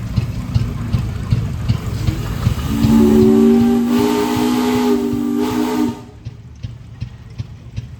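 A 75-horsepower steam traction engine built in 1910 blows its whistle, a long, loud, steady tone over the chuffing and hiss of the engine, then cuts off abruptly.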